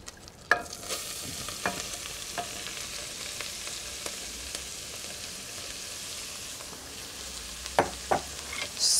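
Lettuce chiffonade is stirred into melted butter in a saucepan, a soft continuous sizzle with scattered scraping taps from the spoon, no voices.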